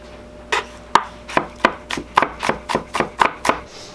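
A knife chops an onion steadily on a cutting board, about ten crisp, evenly spaced strikes close by, with no talking.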